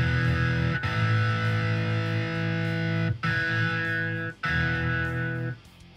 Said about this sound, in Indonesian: Gitar ini kita mau isi efek distorsi atau apa, kita bisa insert ini